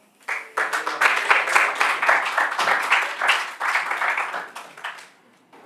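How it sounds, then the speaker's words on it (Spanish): An audience at an academic art-history conference gives a speaker a warm welcome with continuous, moderately loud clapping that swells quickly, holds for several seconds, then tapers off. "con un fuerte aplauso"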